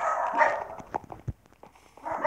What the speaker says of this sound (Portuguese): esses cachorros não calam a boca